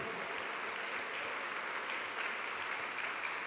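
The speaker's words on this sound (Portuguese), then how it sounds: "aplauda ao Senhor nesta hora" A church congregation at a Baptist communion service applauds, a continuous wash of clapping heard faint and distant, steady throughout.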